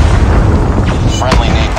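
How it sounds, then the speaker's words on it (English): A Predator missile strike explodes in Call of Duty Mobile, a deep booming blast rolling through dense in-game battle noise and gunfire, with a voice-over announcer line heard over the action. "Predator missile inbound."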